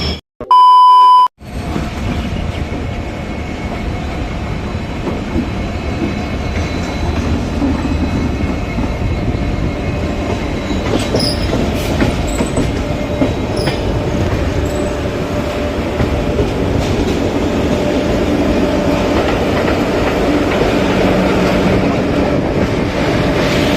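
Shalimar–Puri Superfast Express 12895 running late near Cuttack and Bhubaneswar: a brief beep, then a loud, continuous rumble and clatter of wheels on rails with no talk.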